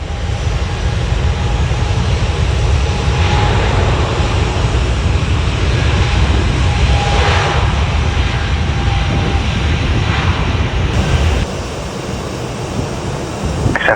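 A PIA Boeing 777 taking off from Toronto Pearson runway 23, heard up close: a loud, continuous roaring jet-engine rumble that swells and holds, then eases slightly toward the end, with no voices.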